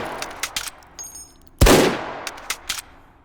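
A sniper rifle fitted with a laser fires once in the H3VR virtual reality shooter, a single loud sharp report with a decaying tail, set among faint metallic clicks and handling noises.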